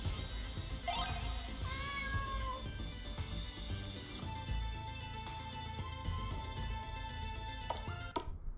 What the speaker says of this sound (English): We have a cat.